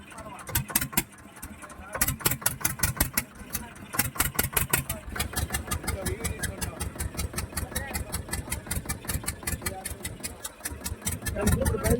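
A boat engine chugs in a fast, steady rhythmic putter, loud and close, running continuously.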